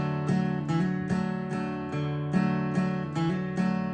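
Strummed acoustic guitar playing the verse of a song, a steady rhythmic strum with regular chord changes, close and clear with no voice.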